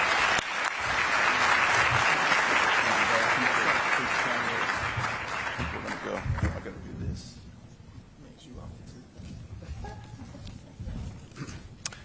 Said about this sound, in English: All right, one more round of applause.